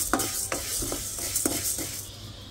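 Lentils (dal) sizzle and fry in a pan, with a steady hiss under repeated scraping stirs of a utensil at irregular intervals, close and moderately loud, no talking.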